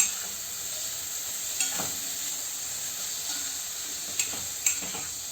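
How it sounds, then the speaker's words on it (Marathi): Fresh green cowpeas sauté in a hot pan with a steady, fairly quiet sizzle throughout, broken by a few soft clicks of a spoon or spatula against the pan. "चवळी आता परतून घेतली आहे."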